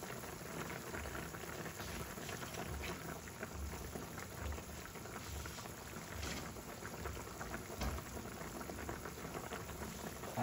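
A pot of KBL, Ilonggo pork soup with kadyos, langka, chili and batuan fruit, bubbles at a steady boil, a continuous soft crackling simmer heard close and alone throughout.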